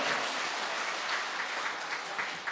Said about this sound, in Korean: 하나님 앞에 큰 박수로 영광 돌리겠습니다.